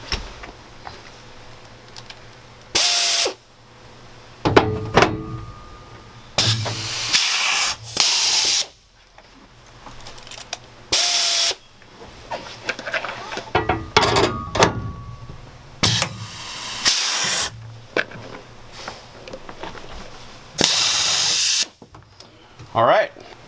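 Short bursts of a power tool setting a riv nut into A-frame sheet metal inside a vehicle, several sharp whirring pulses separated by pauses, with someone talking between them.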